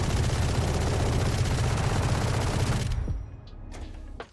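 Sustained rapid light-machine-gun fire in Valorant roars loud and continuous for about three seconds, then cuts off, leaving a few faint mechanical clicks and rattles.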